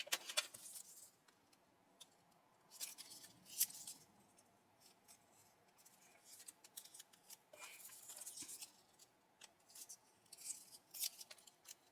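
Scissors snip through paper or tape in short, crisp bursts, clustered in uneven runs with pauses between, close and fairly quiet against a faint background.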